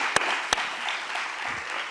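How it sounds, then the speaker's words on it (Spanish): A theatre audience at a women emigrants' congress in San Roque claps steadily, a dense wash of applause filling the hall, with two sharp claps standing out near the start. "vamos a aplaudirle a Nerea"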